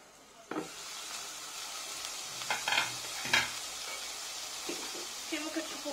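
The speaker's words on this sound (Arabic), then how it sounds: "كما كتشوفوا هنا راه تسحر لينا هاد البصيلة شوية مع هاد لادان" Onions sizzle in oil in a pan over steady frying hiss, with a spoon stirring and scraping in several sharp clicks and clatters, fairly quiet and close.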